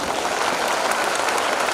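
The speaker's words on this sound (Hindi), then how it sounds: "क्या बिहार वाले एक बार जोरदार ताली बजा सकते" Audience at an annual function in Bihar breaks into loud, dense applause, a steady wash of clapping that fills the whole short stretch with no speech over it.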